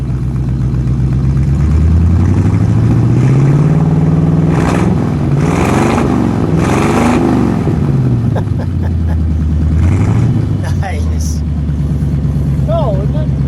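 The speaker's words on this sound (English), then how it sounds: "Flathead's got a nice sound to it. Go ahead, give it a little rev." The flathead engine of a 1950 Ford Custom Deluxe club coupe idles loud and close, then revs up and falls back several times in a mellow rising-and-falling drone, with people talking over it.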